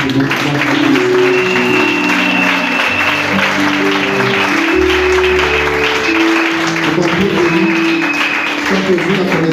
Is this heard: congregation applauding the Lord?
yes